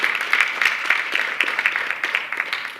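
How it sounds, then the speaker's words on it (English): An audience at the 2023 Merced County junior high spelling bee applauds eliminated contestants with steady, dense clapping from many hands that continues throughout, fairly close and unbroken. "Let's give them a round of applause, as these are some tough words"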